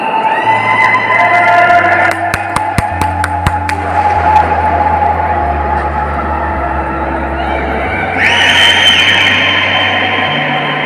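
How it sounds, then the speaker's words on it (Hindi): A single hand clap under the vast Gol Gumbaz dome, followed by a rapid train of distinct echoes that repeat and slowly fade into a long reverberant wash, with crowd murmur and a voice in the background. "देखना आप मेरी ताली की आवाज़ सुनिएगा कितनी बार गूंजेगी"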